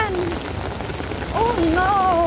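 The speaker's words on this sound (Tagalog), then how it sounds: "Ang lakas ng ulan!" Heavy rain beats down in a loud, constant rush on surfaces nearby, with excited voices calling out over the downpour.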